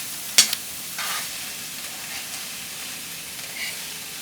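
Ground meat sizzles steadily in a No. 9 Griswold cast iron skillet, a soft, even frying hiss that begins with a brief sharp scrape or clink.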